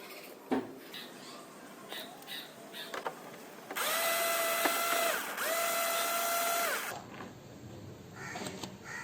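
Screws backed out anti-clockwise from a Honda Activa scooter, with scattered light clicks and taps, then a steady mechanical whirring with a whining tone for a few seconds, close by and free of speech.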